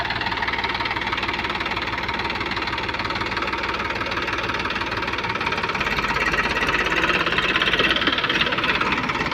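A desi jugaad tractor hauls a tied-on rig while spreading fertilizer in mustard and wheat fields, its engine running with a steady, rough, knocking idle rumble throughout and rising slightly near the end.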